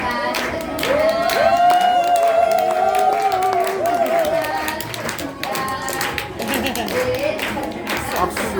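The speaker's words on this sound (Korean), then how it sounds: "다 나오실 때까지 계속 박수 보내드리겠습니다." Audience applause at a gathering, with scattered clapping running underneath loud, prominent talking and crowd noise. The clapping is steady but partly masked by the voices.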